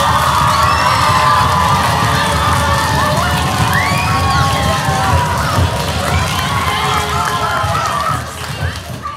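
Studio audience on a German late-night comedy talk show applauding and cheering loudly and continuously, with whoops and shouts over dense clapping, easing off slightly at the end.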